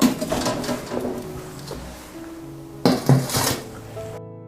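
A metal steamer pot is set onto the stove to steam a sticky millet and pumpkin cake, making clanking and clinking of cookware in a few separate bumps, with a louder knock near the end.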